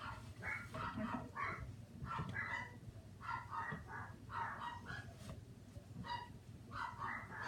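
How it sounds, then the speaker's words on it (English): Small yappy dogs barking in a home kitchen, repeated sharp yaps in irregular bursts at moderate distance, with a low background hum underneath. "Oh, you yappy dogs."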